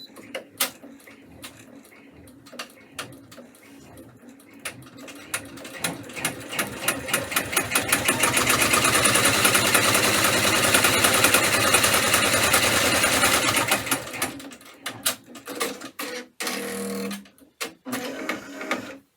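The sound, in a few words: embroidery machine stitching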